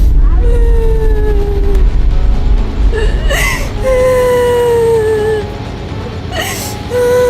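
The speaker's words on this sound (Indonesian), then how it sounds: "Saya dengar suara tangisan" A person wails and sobs in long, descending, moaning cries, repeated several times over a loud, steady low rumble, with brief breathy gasps between.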